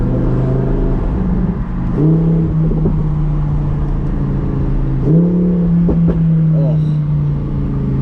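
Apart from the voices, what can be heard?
Lamborghini engine revving with exhaust pops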